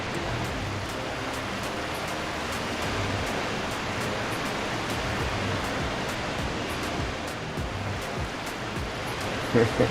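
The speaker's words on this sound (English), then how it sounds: "Yeah, I got the big boy waterfall." A waterfall in the Farming Simulator 22 video game produces a continuous, even rushing hiss of falling water that holds steady throughout.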